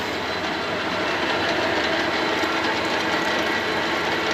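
A metal lathe runs with its coolant flowing, a loud, steady, unbroken mechanical roar and rushing hiss that holds constant with no voices.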